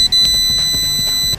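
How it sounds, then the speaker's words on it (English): Car security alarm on an older car, triggered by motion detection, sounding as a steady high electronic tone that holds for just over a second, close and loud over a low rumble. "Motion triggered alarm plus notification via app."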